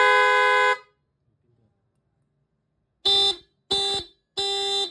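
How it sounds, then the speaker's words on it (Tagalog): A Honda ADV 160 scooter horn, switchable between the stock unit and a louder aftermarket one, sounds a long close blast, goes quiet for about two seconds, then gives three short, sharp honks in a row. "Para mapalipat from stock horn to loud horn."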